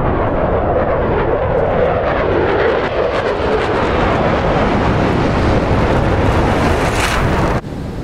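Fighter jet in a flight-combat video game climbing vertically, a loud, continuous roaring engine and rushing wind filling the whole span, cutting down abruptly just before the end.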